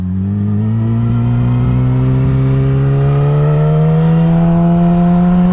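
Yamaha R6 600cc sport motorcycle engine revving close by, one long steady climb in pitch that holds loud and continuous with no pauses, heard alone without talk.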